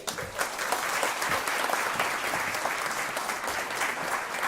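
A crowd applauding the mayor at a DreamWeek San Antonio commencement ceremony, brisk and sustained clapping at a steady level throughout.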